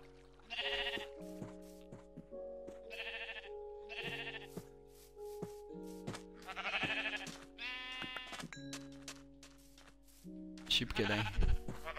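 Repeated Minecraft sheep bleats on Xbox One in short bursts over a background of steady electronic tones and music, with a bump of noise near the end.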